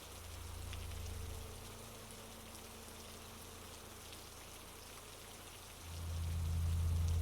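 Steady rain falls at night, a faint, even patter with a low rumble that swells slightly near the end; no voices are heard.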